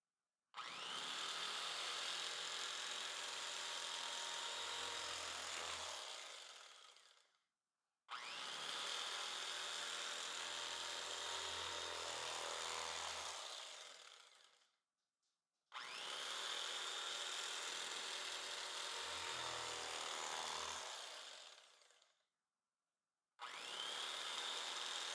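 Homemade cinnamon swirl bread being sliced, with four long, loud, rasping saw-like strokes, each several seconds long and separated by short silences, and no talking.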